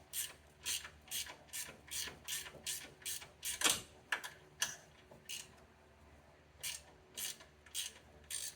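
A ratchet clicking on a 13 mm bolt on a Chevrolet Bolt EUV, in repeated short bursts of rhythmic pawl clicks with a brief pause partway through; close and fairly quiet.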